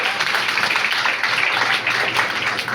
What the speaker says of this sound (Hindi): मनीष के लिए एक छोटी सी तालियां जरूर होनी चाहिए